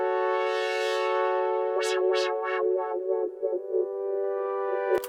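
A held synthesizer chord with stereo widening applied, sounding pushed toward the sides, with a sequence of sweeping filtered swells rising and fading over a steady electronic drone.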